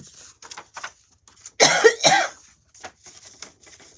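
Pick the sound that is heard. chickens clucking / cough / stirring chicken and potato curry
cough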